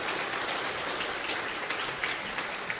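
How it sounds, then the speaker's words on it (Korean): A church congregation claps warmly for its elderly members, steady dense applause filling the room throughout, fairly close and even in loudness. "건강하게 사시라고 뜨겁게 박수해 주시기 바랍니다."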